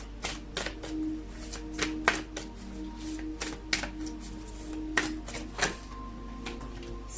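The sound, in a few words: shuffling Whispers of Love Oracle cards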